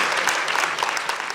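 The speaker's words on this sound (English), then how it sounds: "Let's give that group a round of applause." Applause from a conference audience at a Florida transit gathering, a dense wash of many hands clapping steadily and fairly loud for a short burst, with no voices over it.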